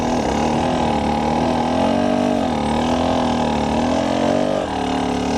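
Enduro dirt bike on a steep hill climb, its engine revving loud and close in a sustained drone that rises and dips as the rear wheel spins for traction, with no voices.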